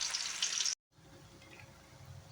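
Chicken 65 pieces fry in hot oil, with a bright hiss that cuts off briefly and returns as a softer, steady sizzle.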